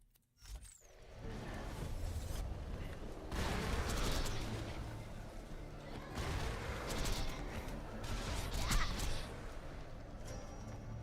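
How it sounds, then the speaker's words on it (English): A grenade blast in the shooter game Borderlands, heard as a sharp boom followed by rolling bursts of explosive crashes and gunfire, fairly quiet overall. "A grenade."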